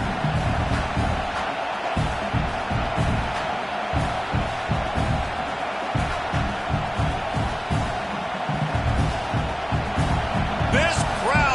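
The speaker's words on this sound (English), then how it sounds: "This crowd busting the decibel meter and trying to will a 4th down stop" A loud, roaring football stadium crowd keeps up a dense, continuous wall of noise during a fourth-down defensive stand, with a commentator talking over it.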